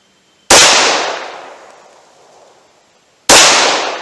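Glock 41 pistol firing .45 ACP hand loads, two sharp loud gunshots about three seconds apart, each with a long decaying echo, no talking.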